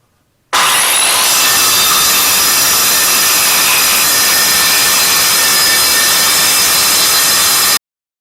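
A worn abrasive cutting wheel grinds through metal on a scrap snow plow, a steady loud harsh whine with hissing grit that runs unbroken for about seven seconds and stops abruptly, with no talking.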